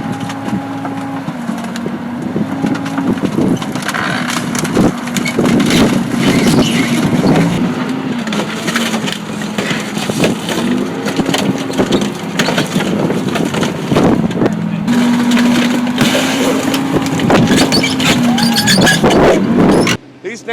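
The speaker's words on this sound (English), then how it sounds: "Let's go crush a car." A military tank rolls over and crushes a car at Tanktown USA, with a loud, continuous roar of heavy engine and grinding, cracking metal and splintering sounds throughout.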